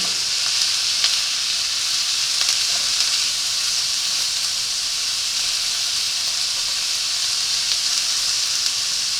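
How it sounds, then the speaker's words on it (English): Garlic sizzles in a skillet being made ready for shrimp and grits, a loud, even, bright frying hiss running unbroken throughout, with faint stirring scrapes now and then and no voices. "I'm just moving this around a lot because I don't want that garlic in there to burn"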